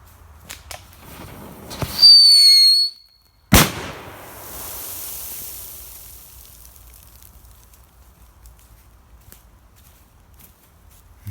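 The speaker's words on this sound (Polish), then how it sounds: "Teraz testujemy sobie petardkę, znaczy emitter dźwięku, scream na piachu i to jest scream z fioletową bibułką." A Funke Scream 3s sound-emitter firecracker with purple tissue goes off on sand: a shrill, piercing screech lasting under a second, then a single sharp crack, followed by a long, fading hiss as it burns down. No one speaks.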